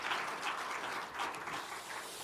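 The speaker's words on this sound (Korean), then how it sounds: "힘차게 박수." A church congregation applauding steadily during a Sunday service, dense clapping in waves that keeps going throughout, moderately loud and a little distant.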